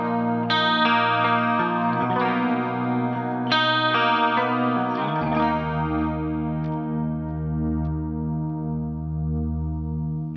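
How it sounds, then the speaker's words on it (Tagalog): Guitar played through chorus, delay and reverb effects, loud sustained chords and ringing notes with a shimmering, echoing wash, the harmony changing a few times before settling into a long held tone. "dito lalabas yung mga preferred modulations tsaka effects ko. Tulad ng chorus, delay at reverb."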